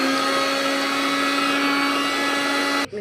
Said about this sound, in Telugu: అల్లం పచ్చిమిర్చి వేసి మనం మిక్సీ కొట్టేసుకోవచ్చు.